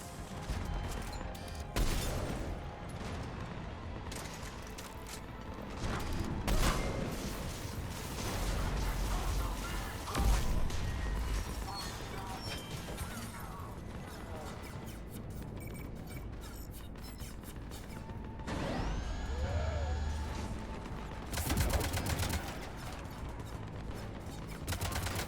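Ship cannons firing in the video game Mass Effect 3 Legendary Edition, a dense, continuous barrage of booms and mechanical clanks with rumbling low end, layered with game effects and music throughout.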